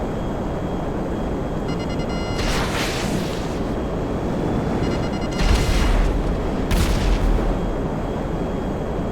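Missiles launched from a P-996 Lazer jet in GTA Online explode over a constant roar of wind and engine, with one early blast and two heavier booms later, fairly loud against the steady background.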